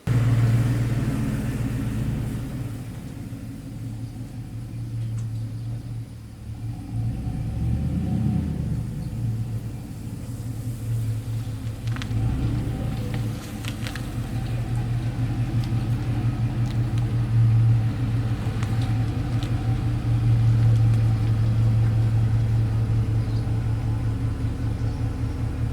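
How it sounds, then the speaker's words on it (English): A farm truck idles and backs up near a barn, a steady low engine rumble with a deeper surge partway through and faint clanks and knocks over the drone, with no talking. "I just backed the truck up"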